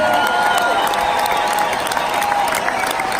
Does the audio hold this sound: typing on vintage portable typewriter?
no